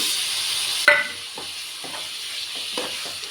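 Brinjal pieces frying in oil in a pan for vangi bath, a steady close sizzle broken by a sharp knock and a series of soft scraping stirs at an uneven rhythm.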